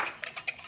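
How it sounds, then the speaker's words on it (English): A wire whisk beats egg yolks in a bowl, giving a few quick metallic clinks and scrapes in a short burst. "egg yolks, breaking them with a wire whisk"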